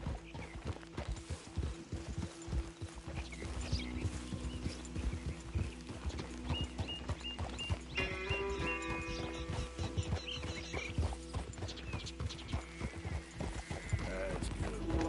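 Horse hooves clip-clop at a steady walking rhythm in Red Dead, close and continuous, with occasional snorts and whinnies, game music and ambience underneath and voices talking at times.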